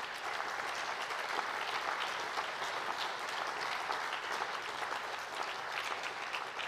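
Steady audience applause at an international cancer research award ceremony, a dense even wash of many hands clapping, heard from a distance and fairly soft, continuing without a break for several seconds with no voices over it.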